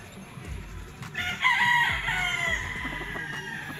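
A young gamefowl stag crows once in a single drawn-out call at close range on a game farm, with background rustling and faint ambient noise before and after.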